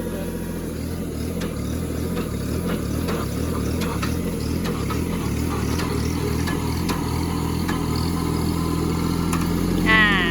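A Kubota 27 hp tractor drives a post hole digger auger through its PTO. The engine makes a loud, steady, low mechanical drone close by throughout, with a brief higher whine near the end.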